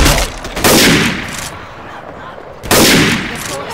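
Auto shotgun blasts in Left 4 Dead 2, two loud, close bursts of gunfire separated by a short pause, each followed by a decaying echo of chaotic game noise.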